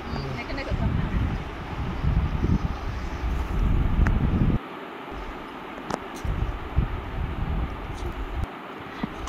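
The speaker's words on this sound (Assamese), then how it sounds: "বতাহ মাৰিছে এতিয়া।" Wind blows outdoors, buffeting the microphone with a heavy low rumble that drops off abruptly midway and then gusts more lightly, with faint voices in the background.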